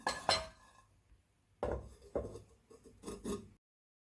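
A lid is set onto a clay pot holding ragi porridge, giving a few sharp ceramic clinks and knocks, close and quiet, separated by short silences.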